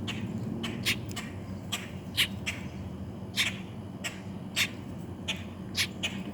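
Adult bird calling close by, a crow or blackbird near an injured baby crow, giving a string of short, sharp squawks spaced about a second apart over a low rumbling background outdoors.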